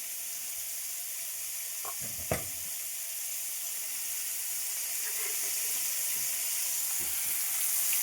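Soft, steady sizzling of prawns frying in a pan for sweet and sour prawns, with a few faint clinks and taps over the continuous hiss.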